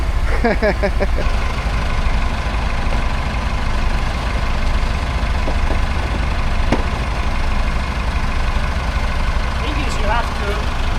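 Two forklifts lifting a camper trailer onto a chassis idle with a steady, loud low engine rumble throughout. People talk over it, close by.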